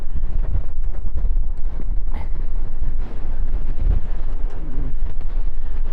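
Strong wind blows on a Blackpool walk the morning after Storm Agnes. It makes a continuous loud, low buffeting rumble against the microphone, with no talking.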